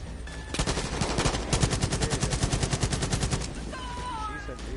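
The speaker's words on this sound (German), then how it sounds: "Schießen wieder!" Rapid automatic gunfire from the video game Far Cry 5, a dense run of bursts lasting a few seconds, loud and close, with game music and effects underneath.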